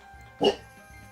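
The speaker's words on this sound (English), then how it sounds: "Oh, Popper's barking. Sorry if you can hear it so loudly" A single short dog bark rings out, brief and moderately loud against a low background hum.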